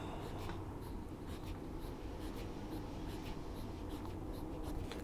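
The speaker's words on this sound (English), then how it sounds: "That's just the weight of the pen on the paper." A Kaweco Classic Sport fountain pen with a German fine nib writing on paper, producing a soft, continuous close-up scratching of nib on paper that stays quiet and even from start to finish.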